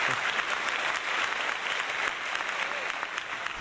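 Conference audience applauding steadily at a tech session on System Center 2012 Orchestrator, a dense, even wash of clapping that holds through the whole stretch at moderate loudness.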